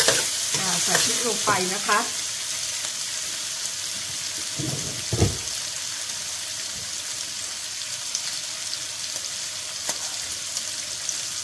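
Fresh chili peppers frying in a pan with pork sausage, a constant close sizzle with stirring scrapes; someone speaks briefly at the start over the frying.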